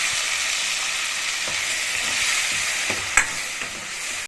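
Tomato paste of chilli and turmeric added to a hot pan for drumstick and chana dal rasam, producing a continuous close sizzle with a few scraping stirs and one sharp knock near the end.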